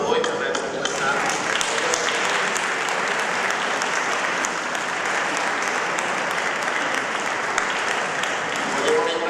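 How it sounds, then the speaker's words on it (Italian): A church audience at a 2019 Christmas concert applauds loudly and steadily for over nine seconds, a thick, sustained roar of clapping with some voices mixed underneath. "facciamo questa volta noi un applauso a voi per averci ascoltato."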